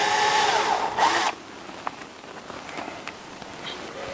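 A power drill whirs loudly for about a second, driving screws up into a countertop to secure a dishwasher, then stops, leaving quiet room noise with a few faint clicks and taps.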